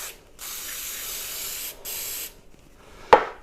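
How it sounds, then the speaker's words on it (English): Baker's Joy baking spray hisses onto a cake pan for a pound cake in two short close bursts, the first longer, followed by a sharp click of the can. "I'm going to lightly spray my pan with Baker's Joy"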